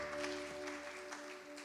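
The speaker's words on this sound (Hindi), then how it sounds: "तो क्यों नहीं ताली बजाकर उसको स्वागत करें" A church congregation in a Hindi-language assembly claps to welcome a singer, soft scattered applause with a low sustained musical tone underneath.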